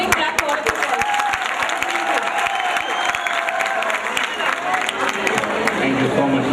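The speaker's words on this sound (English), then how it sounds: "Give a big clap for all of you." A crowd applauding at a stage show in Dehradun, loud sustained clapping from many hands with scattered cheers and voices mixed in throughout.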